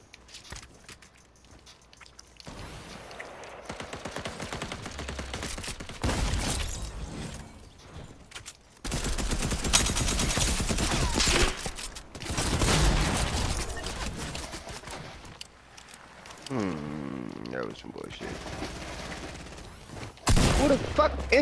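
Gunfire in Fortnite, with bursts of rapid shots and clattering weapon sounds in uneven clusters over game noise, and a voice talking over parts of it.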